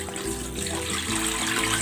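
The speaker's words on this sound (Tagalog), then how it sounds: "Maglalagay ako ng tubig." Tap water runs steadily into a cooking pot for chicken breast being boiled for sotanghon soup, a continuous close, even splashing stream with no talking.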